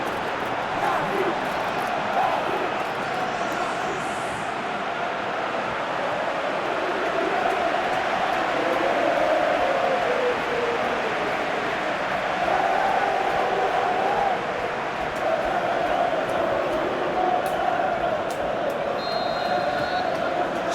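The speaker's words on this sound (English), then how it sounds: "The crowd are calling for this to be put to bed" A football stadium crowd keeps up a broad, steady roar of calling and chanting that washes evenly across the whole stretch, with a commentator's voice talking over it.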